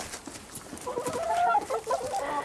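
Several chickens cluck and murmur nearby at a farm where they wait to be fed, the bursts of clucking growing busier midway and continuing through to the end.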